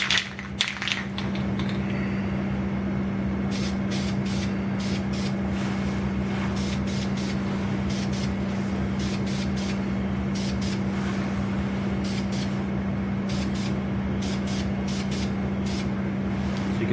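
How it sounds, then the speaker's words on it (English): Dupli-Color primer hisses from a spray can in a garage as light coats go on, in a long run of short, sharp bursts over a steady low background hum. "I'm going to go ahead and apply one more coat of the Dupli-Color primer"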